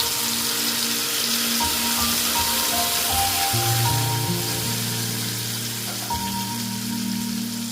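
Spice paste sizzles as it hits hot oil with whole-spice tempering for a no-onion, no-garlic rajma, a constant crackling hiss that holds steady throughout while faint tonal background music plays underneath.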